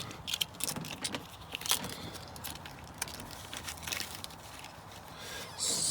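A pair of new keys for a truck's replacement ignition and door lock cylinder jangle and clink softly in the hand, with scattered light metallic rattles and handling noises and no talking.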